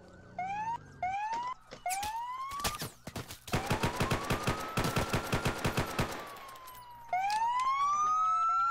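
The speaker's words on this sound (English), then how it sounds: "I don't know, but I hear all the sirens." Rising and falling police sirens in a roleplay video game wail repeatedly, overlapped by a rapid burst of gunfire, all with a synthetic, game-like quality.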